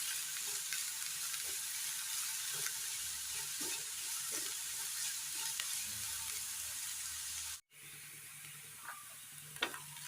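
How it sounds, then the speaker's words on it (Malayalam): Beans and carrots sautéing for vegetable masala noodles: a steady, close sizzle runs throughout, with occasional scrapes and clinks of stirring, a brief break near the end, then the frying resumes. "ബീൻസ്, ക്യാരറ്റ്, നന്നായി വാട്ടിയെടുക്കാം."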